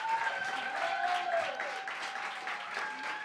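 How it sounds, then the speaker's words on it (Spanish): An audience applauds a guest on a comedy show, steady dense clapping at moderate distance with a few shouted voices rising over it, continuous for the whole stretch. "¡Un aplauso a la maravillosa e increíble Irene"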